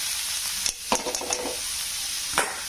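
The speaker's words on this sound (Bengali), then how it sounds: "এটা একটু নেড়ে চেড়ে নেবো এইভাবে" Papaya halwa being stirred in a pan, a soft steady sizzle with a few scraping spoon strokes standing out near the start and end.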